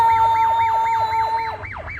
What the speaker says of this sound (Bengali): জাহাজের সবগুলি বিপদজ্ঞাপক সাইরেন একসঙ্গে বেজে উঠল